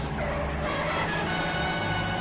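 Car skidding downhill out of control with failing brakes: a dense, continuous roar of screeching tires and engine, heard close in a dramatized audio story, with no talking.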